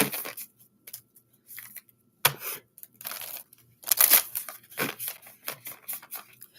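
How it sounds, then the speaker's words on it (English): Soft, close papery riffles and slaps of tarot cards being shuffled come in several short bursts separated by brief pauses, quiet and intimate. "Let's get a few shuffles here."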